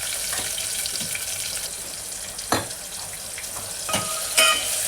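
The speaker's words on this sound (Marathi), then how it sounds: "कारलं फ्राय झालं आहे" Stuffed bitter gourd fries in a pan with a steady hiss and sizzle, broken by a few sharp spoon or pan clicks, close with no voices.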